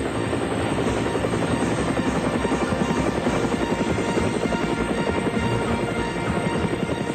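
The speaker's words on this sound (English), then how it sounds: "the chopper returns one more time for the last crewman" A rescue helicopter hovers over a boat in a sea rescue, its rotor chopping out a steady, rapid pulsing throb with a constant engine whine, loud and close throughout with no voices.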